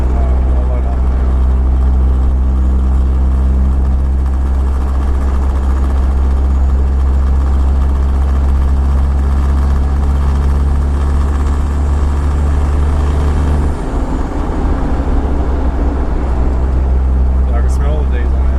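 A Toyota Surf's 2L-TE diesel engine drones loud and low under load in a higher gear during a road tune, a steady heavy rumble that wavers briefly near the end.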